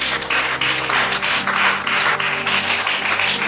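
A church congregation applauding the Lord Jesus, with steady, loud, dense clapping that continues throughout and has no voices over it.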